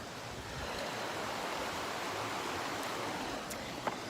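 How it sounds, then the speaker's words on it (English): A river flows outdoors in a steady, broad rushing wash of water that stays constant and close throughout, with no voices. "Just gonna do 60 seconds of just the river so you can experience this with me."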